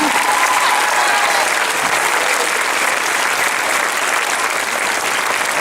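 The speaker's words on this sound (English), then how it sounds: "Please give these guys one more round of applause." Loud, sustained applause from a large crowd in an auditorium after a fifth-grade honor choir performs, a dense, even roar of clapping with no break, with a voice faintly audible at the start.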